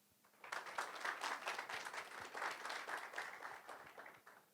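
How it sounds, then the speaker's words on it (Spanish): An audience at an economics conference on Latin America breaks into applause, a dense burst of many hands clapping that rises quickly, holds steady for several seconds and then tapers off, heard from a distance. "para quien pido un fuerte aplauso."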